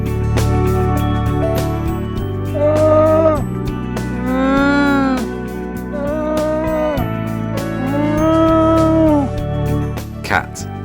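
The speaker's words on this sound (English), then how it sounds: "llama." A llama calling in a series of drawn-out, wavering bleating cries, loud and close, with a music bed running underneath.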